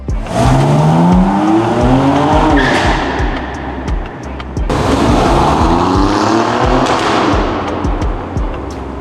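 A car engine revs hard and climbs in pitch twice, with a loud exhaust roar during each acceleration and a brief drop between runs.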